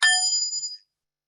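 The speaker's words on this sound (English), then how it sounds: "think about the calming sound made by a Tibetan singing bowl used" A Tibetan singing bowl used in meditation is struck once, giving a bright, clear ring that fades smoothly over about a second into silence.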